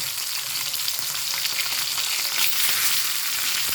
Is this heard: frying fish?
yes